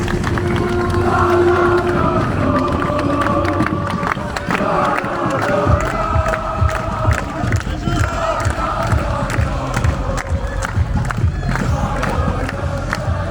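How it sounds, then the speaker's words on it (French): A football crowd at a French Coupe de France match between US Liffré and Rodez claps and cheers loudly and continuously, a dense roar of many voices and hands with shouts rising throughout. "Applaudissements pour l'US Livré."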